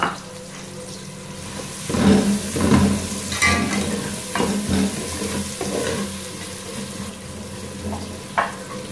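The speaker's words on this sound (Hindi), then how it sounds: "ये हमारा प्याज फ्राई होता है।" Chopped onions sizzle in a pan with a steady frying hiss, and a few scraping stirs come and go over it.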